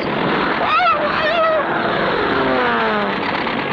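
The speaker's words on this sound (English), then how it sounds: "That crazy plane almost hit us." A cartoon sound effect of an out-of-control plane flying past: a loud whining engine drone with warbling pitch sweeps, heard under a voice speaking.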